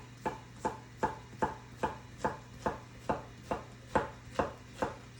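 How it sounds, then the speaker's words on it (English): Knife chopping squash into quarters on a board, about a dozen crisp, evenly spaced cuts in a steady rhythm, close and clear with no talk. "So we're gonna cut the squash into quarters just to get another little fun shape in that pasta."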